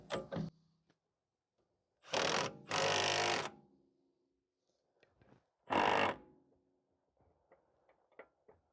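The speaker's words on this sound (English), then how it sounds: "Just going to tighten it up here." A wrench tightens a front lower rearward control arm bolt nut on a 2013 BMW 535i 3.0 L turbo, with short bursts of ratcheting clicks separated by quiet pauses and a few faint taps.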